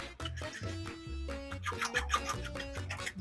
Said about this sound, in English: I'm going to put the butter in there also and just kind of whisk it around.